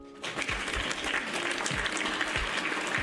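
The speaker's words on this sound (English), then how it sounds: "One more round of applause for our author, Pierre Grimes" An audience applauding author Pierre Grimes, close clapping that starts abruptly and holds steady, with a few louder individual claps standing out.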